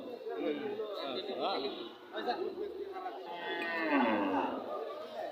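Cattle at the busy Rowmari livestock market give drawn-out moos. One long, rising call stands out near the end, under steady talk and crowd chatter.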